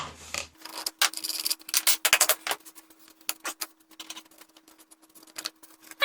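Parts of a homemade bandsaw rubbing and scraping as a wheel is worked off its housing, a close run of rasping, clicking friction sounds in irregular bursts with a faint steady hum beneath.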